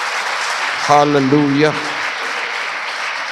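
A church congregation claps steadily throughout, with a single voice calling out briefly over the applause.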